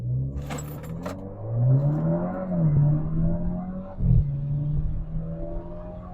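An Alfa Romeo Giulia pulls hard from a standstill to 60 mph with a little turbo boost, its engine note climbing steadily then dropping at a gear change before rising again, heard from inside the car.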